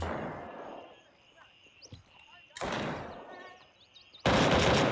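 Bursts of rapid shotgun and rifle fire in the video game Gray Zone Warfare crackle in short volleys, loud and sharp, separated by quieter stretches with faint electronic tones.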